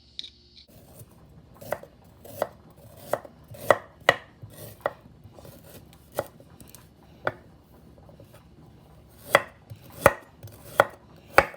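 Knife trimming washed ginger on a cutting board, a series of sharp, irregular chops and taps close by, with quiet pauses between strokes.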